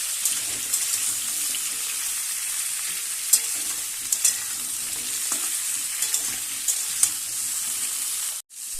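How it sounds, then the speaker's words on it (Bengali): Pointed gourd, plantain and other vegetables frying in a pan for vegetable pulao, a loud, continuous bright sizzle with occasional small clicks of stirring, no voices. "পটল, সবজিগুলো এবার ভেজে নেব কিছু সময় নিয়ে।"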